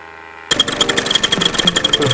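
A paramotor engine and propeller start up abruptly after a quieter stretch, then run as a loud, rough, buzzing drone with fluttering pulses, close by at an outdoor adventure park.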